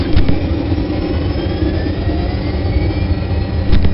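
Apache helicopter engines spool up in a combat flight game, a loud continuous turbine roar and deep rumble with a rising whine steady throughout.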